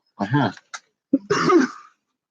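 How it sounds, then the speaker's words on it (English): A couple of coughs up close, one hoarse burst followed by a short throat-clearing cough and a longer rough one. "Sorry for the cough."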